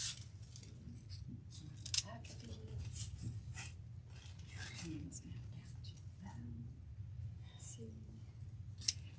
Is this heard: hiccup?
no